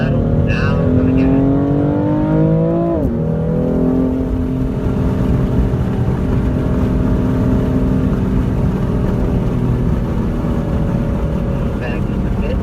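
A BMW M4 Competition roars close-up on the Monticello Motor Club North loop race track, its engine note climbing, dropping sharply at a gear change, then holding a strong, sustained drone.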